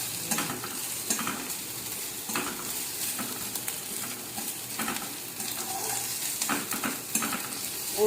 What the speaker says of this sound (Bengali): পেঁয়াজ আর জিরেটাকে একটু লাল লাল করে ভেজে নেওয়া হবে।